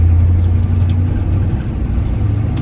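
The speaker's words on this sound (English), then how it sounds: "You hear the chatter from the diesel." Diesel engine chatter fills the cab of a retired army truck that has no insulation or sound deadening, a loud, steady low rumble with a rough idle texture and no speech over it.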